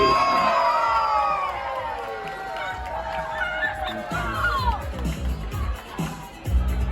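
A large crowd at a Halloween kids' costume contest cheers and shouts loudly, with whoops and children's voices mixed into a sustained roar that swells again near the end.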